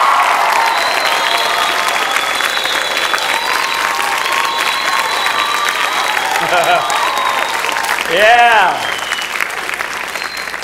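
A live audience at a relationship and dating seminar applauds loudly and steadily, a dense wash of clapping with some crowd noise, while a voice speaks briefly near the end.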